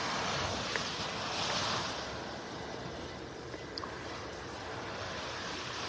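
Wind gusting across a Gulf beach in North Naples, Florida with surf rushing in a continuous broadband roar, moderately loud and steady throughout.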